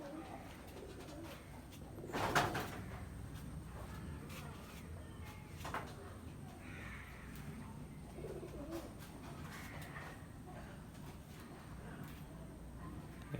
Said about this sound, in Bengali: এরা হচ্ছে আমার প্রথম কবুতর